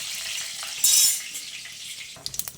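Peanuts fry in hot oil with tempered mustard seeds in a pan for bateta poha, a steady soft hiss and sizzle, with a brief louder burst of crackle and a few utensil clinks at the end.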